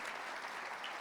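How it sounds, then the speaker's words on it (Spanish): A church congregation applauding the Lord, a dense, even burst of clapping from a crowd, heard briefly and at a distance. "Dale un fuerte aplauso al Señor."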